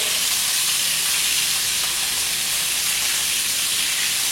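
Food fries in oil in an uncrowded pan, giving a steady, loud, even sizzle and hiss that carries on without a break for the whole stretch.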